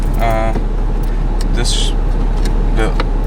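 A BMW's engine idles with a steady low hum beneath the voices of people talking close by in the cabin while a stereo head unit is fitted.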